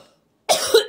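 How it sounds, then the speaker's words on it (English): A sudden burst of harsh coughing, brought on by cutting hot red peppers, after a brief silence, close and loud, two quick hacking coughs. "I'm coughing just from cutting it"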